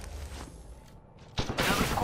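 Rapid gunfire in Apex Legends crackles in short bursts, first quieter and then a loud dense volley in the last second, with game sounds mixed in.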